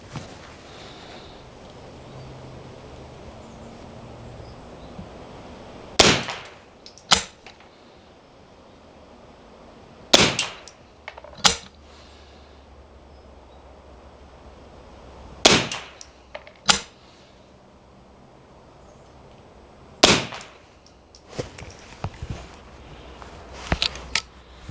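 A French X51Bis .22 carbine firing single shots, each sharp crack followed about a second later by the metallic clack of the bolt being released, four shot-and-bolt pairs spaced evenly apart in a quiet room.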